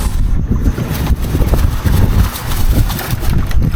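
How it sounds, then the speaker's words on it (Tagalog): Strong wind buffets the microphone on a boat out at sea during a fishing trip, producing a loud, continuous rumbling roar with gusty fluctuations and no pauses. "Sa ngayon dito malakas ang hangin"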